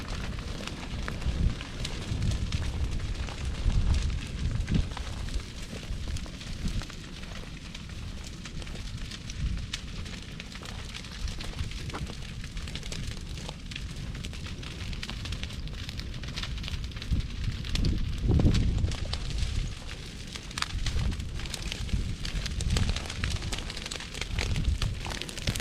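A controlled back burn crackles and roars through a CRP grass field, a steady broadband rush with wind gusts buffeting the microphone and a few louder flare-ups, close and continuous with no speech.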